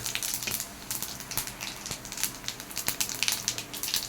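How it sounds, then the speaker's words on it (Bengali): Whole cumin seeds, dried chillies and bay leaves sizzle in hot oil with a steady, close crackle and scattered sharper pops. "তেলটা গরম হয়ে গেছে ফোড়ন দিয়ে দিচ্ছি গোটা জিরে শুকনো লঙ্কা তেজপাতা"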